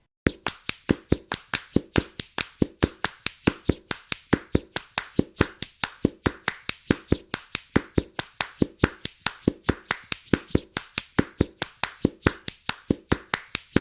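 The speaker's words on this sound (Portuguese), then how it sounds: "e ele pode ser feito com palmas." Hand clapping beating out a samba rhythm, a long run of sharp, evenly spaced claps with a lilting pulse, close and unaccompanied by voices.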